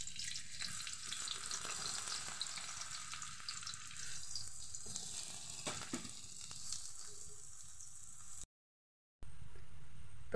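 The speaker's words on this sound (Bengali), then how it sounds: "দিয়ে ভালো করে লাল করে পেঁয়াজগুলো ভেজে নেব" Chopped onions sizzle and crackle steadily in hot oil in a wok, a dense, continuous frying hiss that stays close and even before breaking off briefly near the end.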